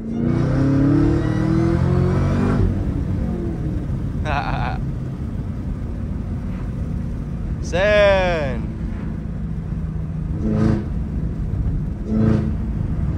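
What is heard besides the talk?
supercharged Camaro engine revving on downshift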